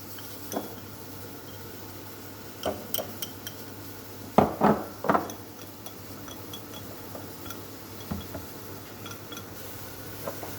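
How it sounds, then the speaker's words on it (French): Butter being mixed with flour in a bowl for beurre manié, scattered clinks and scrapes of a utensil against the bowl with a short cluster of sharper knocks, quiet background between. "Je vais mélanger mon beurre avec la farine."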